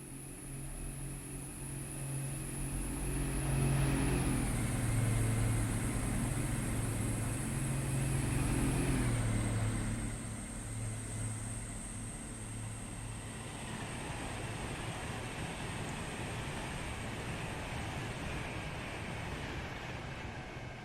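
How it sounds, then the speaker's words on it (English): An Avanti West Coast passenger service from Shrewsbury to London Euston runs through Milton Keynes Central station on the West Coast Main Line, a steady rumbling roar with a high whine that shifts pitch as it passes. "now passing through is an Avanti West Coast service from Shrewsbury"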